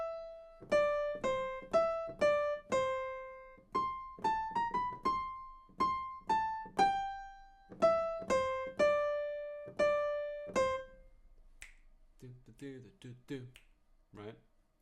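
Piano plays a bouncing boogie pattern with a rising chromatic walk-up, in steady rhythmic bursts of plucked notes, clear and up close; the playing breaks off near the end, where a voice briefly talks.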